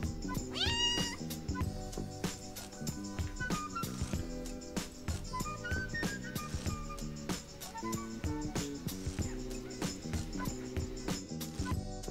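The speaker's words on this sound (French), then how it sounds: "Les petits chats ils arrêtent pas de venir voir Mochi" Several kittens meow indoors with high, rising cries, clustered early and scattered through the stretch over a steady tonal background.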